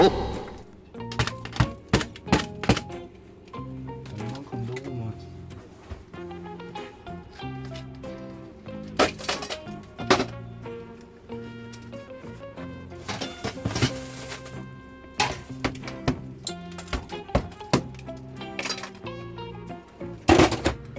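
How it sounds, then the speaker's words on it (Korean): Ice is chipped out of a caravan refrigerator: hard, close thunks and cracking knocks come in irregular bursts, some quick and clustered, others spaced out, with quieter scraping between them. "얼음이 안 녹아서 깨야 될것 같아"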